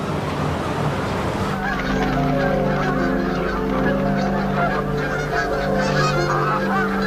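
Wild geese honk repeatedly in a noisy flock, loud and close, with a steady wash of water or wind noise underneath.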